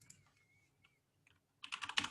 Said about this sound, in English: Start typing it in.